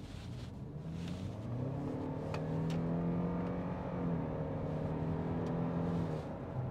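A 2024 Ford Kuga FHEV hybrid SUV accelerates in sport mode. A steady engine drone with rising harmonic tones carries on throughout at moderate level, heard from inside the car with no talk.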